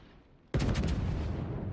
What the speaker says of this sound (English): This salvo should take care of him.